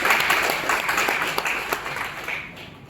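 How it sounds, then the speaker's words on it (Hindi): Applause at a formal gathering: a steady wash of many hands clapping, fairly loud and continuous, tapering slightly toward the end. "इसी बात में बड़ी जोरदार तालियां देनी चाहिए।"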